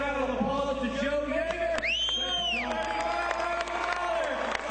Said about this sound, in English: I want y'all to give a big round of applause to Joe